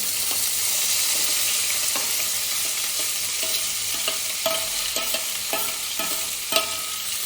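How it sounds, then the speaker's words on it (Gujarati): Tomato, onion, chili and ginger paste hits hot tempering oil for Gujarati poha, giving a steady close sizzle with repeated spoon stirs and scrapes against the pan, no voices. "ટમેટું, કાંદો, મરચું અને આદુ, એ બધું આપણે આમાં એડ કરી દઈશું વઘાર માટે"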